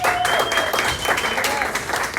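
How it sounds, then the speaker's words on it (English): Steady crowd applause at a stand-up comedy show fills the whole stretch, a dense wash of clapping with a faint whistle or tone running above it. "Give yourselves a big round of applause."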